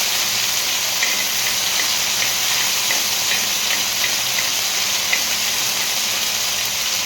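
Vegetables fry in hot oil with a bright, steady sizzle and crackle of small pops that carries on evenly for the whole stretch, close and fairly loud, with no talking.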